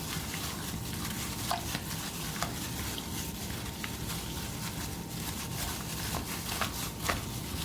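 Seasoning being mixed by hand into raw oxtail for Jamaican-style oxtail, a continuous wet, squelching stir with faint sticky pats, close and steady over a low background hiss, with no talking.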